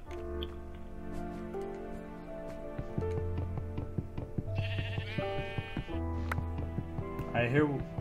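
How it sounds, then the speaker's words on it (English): Sheep bleat in the video game Minecraft, a couple of short wavering calls rising over steady game music, fairly faint and close together near the end. "I hear sheep."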